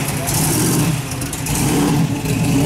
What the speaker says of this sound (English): 540 cubic inch Chevy balloon. Big block engine, I might add.